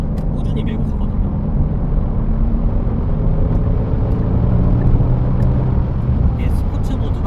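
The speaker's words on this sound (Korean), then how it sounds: "힘이 좋다 보니까 이렇게 합류를 할 때도 살짝만 밟아도 저 RPM에서 꾸준히 밀고 가거든요." Kia Stinger 3.3T sedan pulling steadily at low RPM while merging onto a road, a continuous deep engine and road rumble heard from inside the cabin with a voice talking over it.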